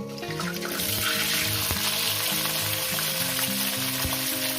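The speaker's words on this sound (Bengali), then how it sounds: "এঁচড়গুলো আমি আলুর মতনই লাল লাল করে ভেজে নেব" Pieces of unripe jackfruit sizzle loudly in hot oil, a constant close frying crackle with a couple of sharp knocks, over background music.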